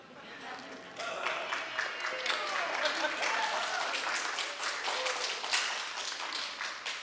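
An audience breaks into sustained applause and cheering that swells after a quiet start, with dense clapping continuing throughout.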